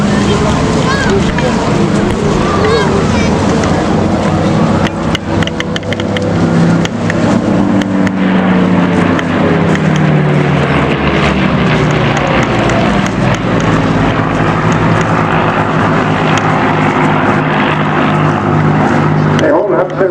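A Spitfire fighter's piston engine drones loud and continuous through a flypast at a Battle of Britain Memorial Flight display, with a commentator talking over it.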